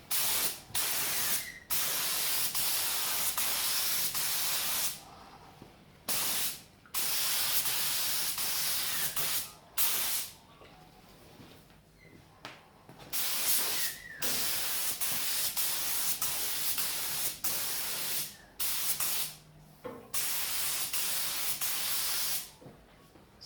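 Acrylic black paint sprayed in repeated bursts while refinishing a Honda XL250 motorcycle part, each close, loud hiss lasting several seconds and separated by brief pauses, with no talking.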